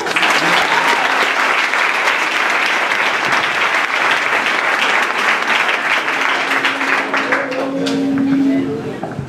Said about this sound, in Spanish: Shall we give him a clap offering? ¿Puedes darle un aplauso?